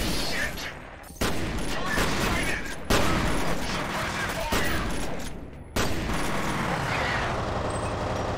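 Gunfire in the shooter game F.E.A.R., loud bursts of shots punctuated by short pauses and sudden restarts, thick with explosive noise and a speaking voice.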